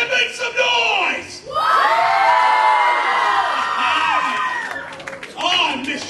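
An arena crowd at a SAW wrestling event in St. Albans roars, cheers and shouts in a loud, sustained wave, with high whoops and children's yells riding over it.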